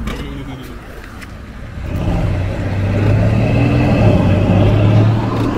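A BMW F90 M5 engine revs and idles up from low rumble, growing louder and steadier after the first two seconds, close by with faint background voices.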